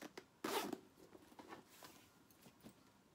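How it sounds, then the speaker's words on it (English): Zip top closure of a Brighton canvas embroidered tote bag being pulled, a short loud zipping burst near the start followed by fainter scattered rustles and small ticks, close and quiet overall. "And then the zip top closure."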